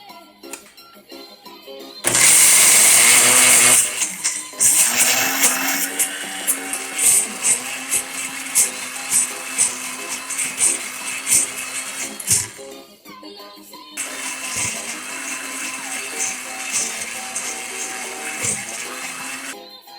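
A countertop blender purees white banana into a mix of egg whites, almonds, cashews and oats, opening with a loud roaring burst and then whirring and rattling in uneven pulses, briefly stopping before a quieter second run.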